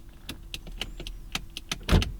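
A Mercedes convertible's power top runs through its cycle: a series of short mechanical clicks and whirring motor pulses, ending in a louder thump near the close, heard up close with no talking.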